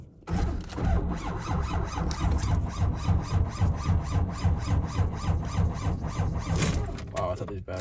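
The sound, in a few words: truck engine cranking over on weak batteries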